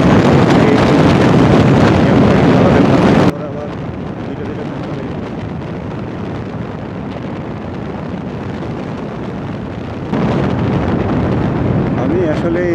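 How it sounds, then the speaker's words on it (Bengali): Strong, roaring wind buffets the microphone of a rider on a Royal Enfield motorcycle on the road from Dhaka to Chandpur. The roar stays loud throughout and shifts in level midway. "আমি আসলে এই রয়্যাল এনফিল্ড বাইকটা চালিয়ে খুব মজা পাচ্ছি।"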